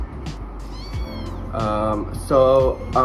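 A foster kitten gives several short, high meows in quick succession, close to the mic, with faint background sound between the cries.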